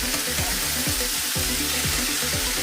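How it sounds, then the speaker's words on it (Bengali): Beetroot and carrot pieces fry over a high flame in a cooker, giving a steady, close sizzle with a bright hiss throughout and no voices. "মিনিটের মতো একটু হাই ফ্লেমে ভাজলে এটা হয়ে যাবে।"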